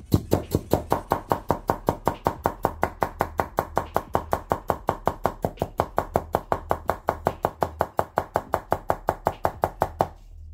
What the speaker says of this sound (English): I give it one last shot with chopping